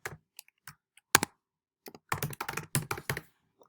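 Keys clack on a computer keyboard in scattered single taps, then a denser quick run of keystrokes, crisp and close against near silence.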